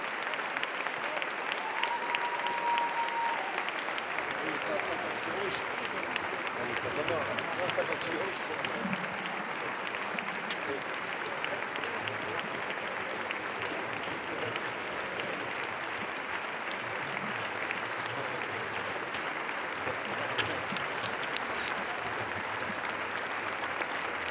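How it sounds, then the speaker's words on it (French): A large crowd gives sustained, dense applause as the film team for Roubaix, une lumière enters the Lumière theatre at the 2019 Cannes festival, with steady clapping and crowd noise filling the whole stretch. "There they go, entering into the Lumiere movie theatre. To tremendous applause."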